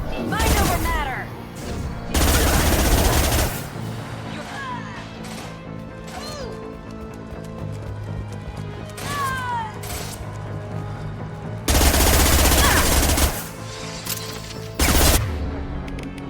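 Gunfire in the sci-fi shooter Mass Effect 2 Legendary Edition: bursts of loud crashing shots and impacts mixed with game effects, music and character voices across a busy combat scene.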